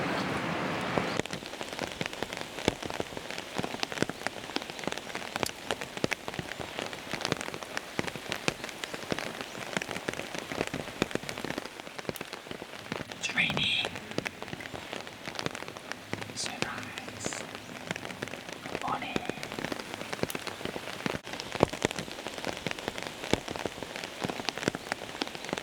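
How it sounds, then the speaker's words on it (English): Steady rain pours on Yakushima island, a dense continuous hiss of drops striking surfaces with scattered louder splatters, close and enveloping for the whole stretch, with faint voices now and then underneath. "It's raining again."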